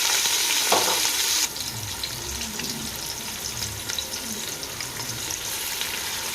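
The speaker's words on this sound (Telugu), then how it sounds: "ఎర్రగడ్డలు అయితే బాగా ఫ్రై అవ్వాలండి, కొంచెం రెడ్డిష్గా రావాలి ఇవంతా" Onions frying in hot oil with whole spices for chicken biryani, a steady close sizzle and hiss throughout, louder in the first second and a half then settling into an even crackle.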